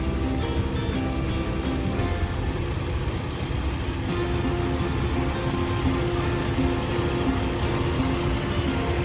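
A lifted, all-stock 2005 Jeep Wrangler Unlimited LJ 4x4 idles with a steady, even engine hum and a low rumble, loud and continuous with no change in pitch.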